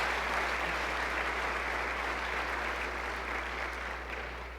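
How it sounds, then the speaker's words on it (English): An audience at a university address claps steadily for a speaker, a broad, even wash of applause that tapers slightly at the end, over a low constant electrical hum. "let's give him another round of applause"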